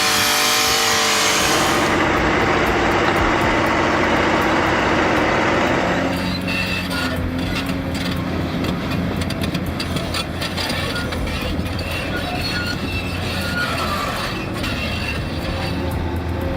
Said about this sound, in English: The engine growls. It struggles, exerting every ounce of power to break free from the riverbed's grip.